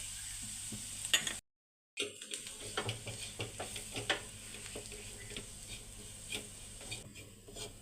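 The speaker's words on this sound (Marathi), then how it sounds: "बेसन पीठ मंद आचेवरती भाजून घेऊयात" Gram flour is roasted with chilli powder, garam masala and coriander powder in a pan over low heat for kachori filling, giving a faint dry sizzle with repeated scraping stirs of a spoon and a brief silent gap early on.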